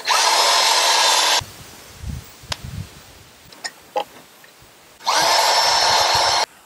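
Power drill driving cheap, stripping screws into wood during a compost bin build, heard in two long, loud continuous whirring bursts at start and end, separated by quiet knocks and handling sounds.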